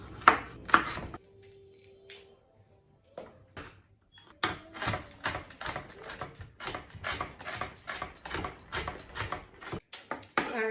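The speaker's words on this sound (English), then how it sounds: "I got garlic, so I'm going to chop that stuff up." Knife chopping garlic and onions on a cutting board, quick rhythmic close taps that start sparse and then run steady and fast through most of the stretch, with no talking.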